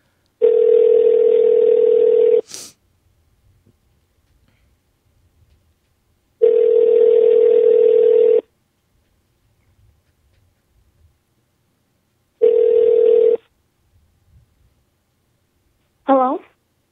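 Telephone ringback tone while calling someone, three long steady buzzing rings separated by pauses, with a short click after the first ring and a brief rising sound at the very end.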